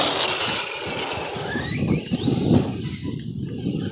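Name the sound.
Force RC Epidemic monster truck braking on concrete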